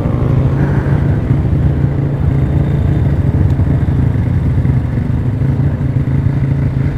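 A Yamaha Jupiter Z 180cc motorcycle is ridden on the road, its engine droning loud and continuous up close with rumbling wind and road noise throughout.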